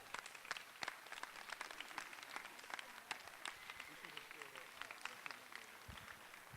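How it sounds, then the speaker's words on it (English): An audience at a high school student race relations forum gives a round of applause for the students, sustained clapping from many hands with a few sharp claps and some voices mixed in beneath. "And one more round of applause for all of our students and all that they've shared."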